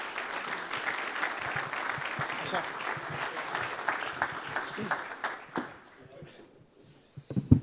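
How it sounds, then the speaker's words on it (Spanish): Audience applause welcomes a speaker at a talk on Uruguay's international insertion and development. The clapping is steady and moderate, thins out after about five seconds, and gives way to scattered handling noises and a brief voice. "les pido un aplauso para él como bienvenida"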